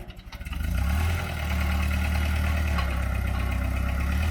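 Tractor engine plowing a rough, weedy field with a broken hand throttle, a steady low throbbing chug that swells after a brief start and then holds even, close and loud with no talk.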